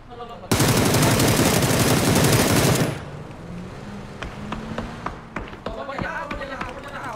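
Dense automatic gunfire from the battle-royale shooter PUBG roars loud for about two seconds, then scattered single shots and lighter game sounds continue at a distance.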